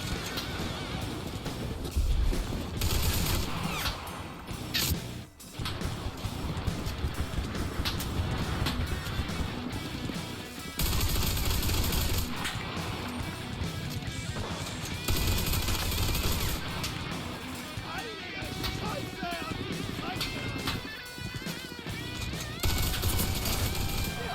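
Submachine gun fire from a German-side SMG in the WW2 shooter Enlisted, loud sustained bursts of rapid automatic shots with short pauses between volleys, set against a dense battlefield din.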